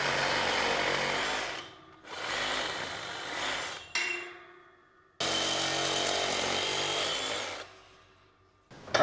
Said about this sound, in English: we're going to go ahead and cut these bolts off.